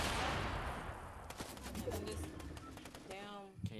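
Gunfire in an online video game, a quick scatter of sharp shots over a noisy background, with a voice talking near the end.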